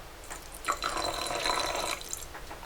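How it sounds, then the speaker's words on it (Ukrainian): Paint thinner poured into a container of thick paint, a thin liquid trickle with small splashy drips lasting a couple of seconds, close and fairly quiet. "И так чуть-чуть наливаем растворителя."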